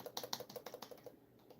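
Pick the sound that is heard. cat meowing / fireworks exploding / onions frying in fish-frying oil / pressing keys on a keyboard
pressing keys on a keyboard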